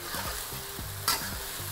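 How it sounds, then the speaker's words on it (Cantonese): Food pan-fried in a wok, left to sear after being flipped: steady close sizzling with short scraping stirs and one brief sharp clatter partway through, no voices. "反咗之後又俾佢煎一煎"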